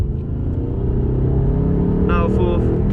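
An Audi R8 engine at full throttle while drifting on a circuit, a loud steady roar that climbs slightly in pitch, with an instructor's voice over it.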